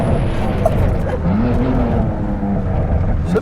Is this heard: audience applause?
no